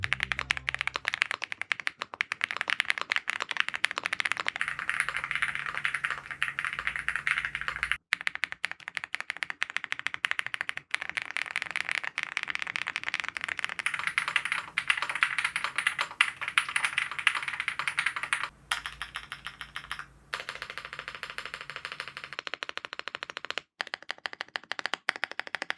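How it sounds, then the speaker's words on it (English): Typing on a QK100 Mk2 mechanical keyboard fitted with linear, thock-leaning switches: a dense, steady stream of close keystrokes with deep, rounded clacks, continuing for the whole stretch with only brief pauses and no talking. "It's a very popular switch, it's a linear switch, and it also leans towards the thockier side of the sound profiles"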